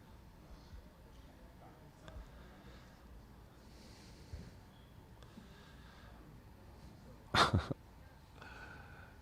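A single sharp sneeze bursts out late, brief and fairly close, against a quiet background with faint wind noise.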